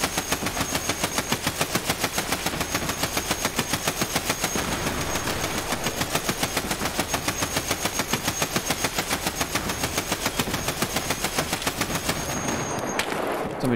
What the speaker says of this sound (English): Someone's shooting at me, actively.